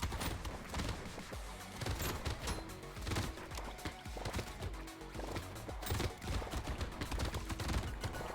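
Dense, continuous gunfire from swarms of enemies in the arena game Brotato, rapid overlapping shots layered over busy game music and effects at steady loudness throughout.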